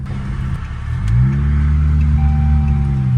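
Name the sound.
rebuilt 300 car driving on the road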